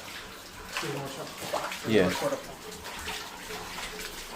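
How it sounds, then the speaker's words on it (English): Footsteps splash through shallow flood water that flows like a river, a few uneven sloshing splashes close by, with a person's voice briefly heard. "It's literally splashes as I walk into the water."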